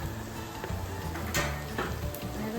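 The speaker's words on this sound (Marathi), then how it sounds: "तर आता हे सर्व तेलातून काढलेल्या भाज्या आपण ह्याच्यात टाकूयात" Fried cauliflower, peas and potato pieces tipped into oil with roasted spices for a Maharashtrian rassa bhaji, sizzling steadily with a few clatters and stirring scrapes, close and moderately loud, no talking.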